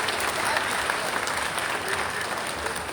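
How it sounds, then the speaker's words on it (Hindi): An audience at a cultural festival in Gopalganj applauds the release of a booklet, continuous moderately quiet clapping filling the whole stretch with a hint of murmuring. "तालियों से स्वागत कीजिए"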